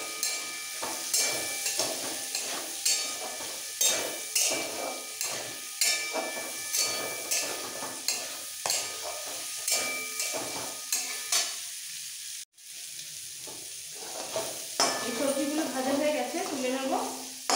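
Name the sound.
carrots, beans and peas frying in a pan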